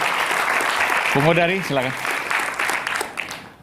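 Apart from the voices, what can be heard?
audience applause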